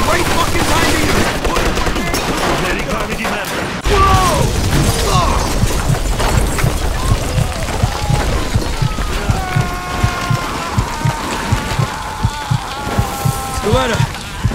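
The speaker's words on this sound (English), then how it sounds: "Looks like we found a machine gun." Machine gun firing in the Mafia II video game comes as a dense, continuous rattle of mechanical clatter and gunfire throughout, with voices talking over parts of the action.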